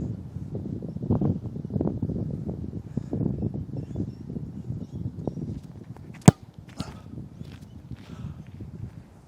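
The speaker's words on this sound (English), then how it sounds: "this wind has really picked up out of nowhere" Gusty wind blowing across an Aussie Rules football field, a continuous low rumbling buffet against the microphone with one sharp thump partway through.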